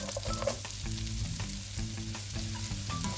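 Chopped onions cook in melted butter in a pan, a steady close sizzle and crackle carrying on evenly throughout, with no speech.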